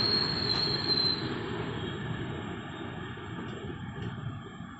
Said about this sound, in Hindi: प्लेटफॉर्म नंबर 3 पे हमारी ट्रेन पहुंची है, लक्सर जंक्शन पहुंच गए हम।